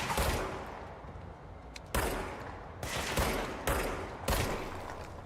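Repeated gunfire from enemies in the video game Control, sharp broadband bursts arriving in several clustered volleys over a constant rumbling background, fairly close and loud, with no talking.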